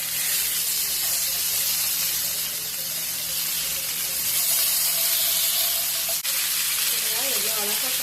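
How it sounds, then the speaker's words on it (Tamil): Fish frying in hot oil in a pan, seasoned with Kashmiri chilli powder, giving a steady close hiss and sizzle with faint crackles throughout, a brief clatter near the end. "எப்படி பொரியுது பாருங்கள்"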